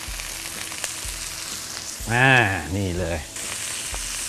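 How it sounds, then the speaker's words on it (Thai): Lobster meat frying in added oil in a pan gives a steady close sizzle throughout, briefly covered by someone speaking in the middle. "ผมเพิ่มน้ำมันหน่อยครับเพราะว่าเราจะทอดตรงเนื้อให้เขาหอมหน่อย"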